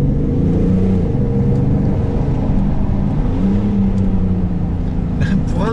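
A 2018 BMW X5 M50d diesel engine revs as it accelerates, a loud, steady low drone rising in pitch, heard from inside the cabin.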